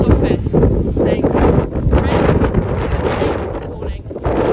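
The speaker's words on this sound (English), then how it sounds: "It's very windy" Strong wind buffets the microphone during an outdoor walk at Claverton Down, a loud continuous roar with gusting swells throughout and no clear talk over it.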